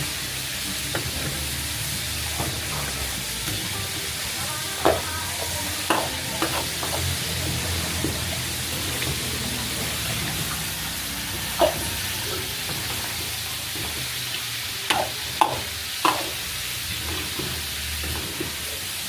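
Cheesy pork caldereta being stirred in a pan, a low steady simmering bed with sporadic sharp clinks and scrapes of the utensil against the pan, close and without talking.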